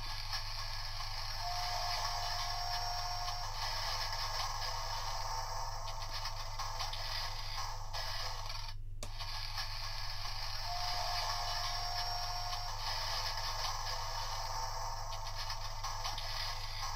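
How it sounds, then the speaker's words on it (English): Continuous electronic machinery noise from a Star Wars Droid Factory toy playset, a steady hissing, whirring wash with a faint tone, broken by one brief dropout midway, close and even. "So that sounds like some machinery or something in the droid factory."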